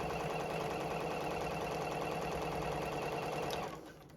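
A JUKI sewing machine stitches along a zipper beside its teeth in a quilted bag, a fast steady needle rattle running close and even for about three and a half seconds before slowing to a stop.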